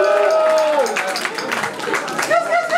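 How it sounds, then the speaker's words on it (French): Audience at a French battle rap event cheering an MC: scattered clapping and crowd noise that runs throughout, under and after a voice speaking over a PA, with bursts of claps rising near the end. "applaudissez-le"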